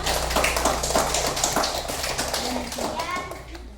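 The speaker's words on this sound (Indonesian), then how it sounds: "Kasih tepuk tangan untuk teman-temannya." Classroom children clapping for classmates after a group discussion, a lively patter of small hands mixed with children's chatter and voices throughout, close and fairly loud.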